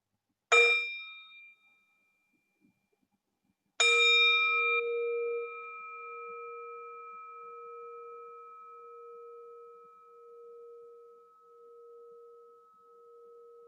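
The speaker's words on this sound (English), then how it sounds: "Let's have a sound of the bell." A mindfulness bell rings twice during a dharma talk: a short first strike, then a second, fuller strike whose clear tone hangs and fades slowly through a long, quiet decay.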